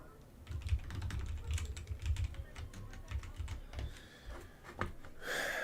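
A computer keyboard clatters with quick, irregular keystrokes close by, rising and pausing over several seconds, ending in a brief louder rustle.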